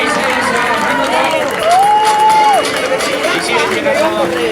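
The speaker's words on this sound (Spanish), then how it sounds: "que no paren esos aplausos de Gijón" Spectators applaud and cheer runners crossing the finish of the Gijón 10 km road race, a steady loud crowd din under continuous commentator talk, with a whistle-like tone rising briefly in the middle.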